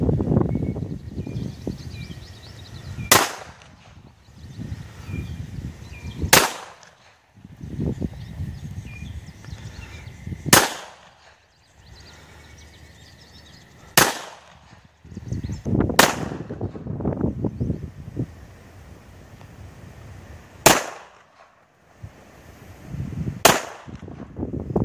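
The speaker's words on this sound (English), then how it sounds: "It is an extremely smooth shooting gun." A Frommer Stop M12 pistol fires seven sharp, loud single shots spaced a few seconds apart, each crack followed by a brief rumbling echo, with quieter handling noise between.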